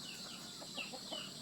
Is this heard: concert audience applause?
no